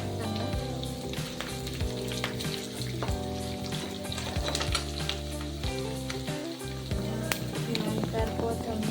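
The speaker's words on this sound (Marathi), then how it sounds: "नंतर कढीपत्ता तळून घ्यायचा त्या चांगला." Curry leaves and onion sizzle and crackle steadily in a hot pan for khichdi, a loud continuous frying hiss with occasional stirring scrapes close by.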